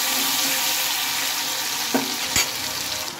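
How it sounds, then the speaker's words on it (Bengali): Nigella seeds and a ginger, cumin and dried chili paste fry in hot oil, a steady broadband sizzle throughout with a couple of brief clinks of a spoon against the pan near the end. "আর দিয়ে নিয়েছি অল্প একটু কালো জিরে। এগুলো ভাজা হোক।"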